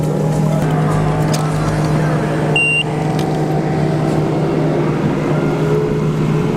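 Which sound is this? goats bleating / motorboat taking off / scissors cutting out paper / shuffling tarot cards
motorboat taking off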